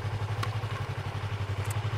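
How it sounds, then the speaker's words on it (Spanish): A motorcycle idles nearby at a roadside police checkpoint, its engine putting out a steady, rapid, even pulsing throb that stays loud and regular from start to finish. "Apágueme la moto, por favor."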